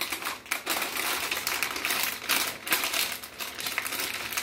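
Paper rustling and crinkling continuously as freezer wrapping paper is folded tightly around meat, with close, dense crackling and brief pauses.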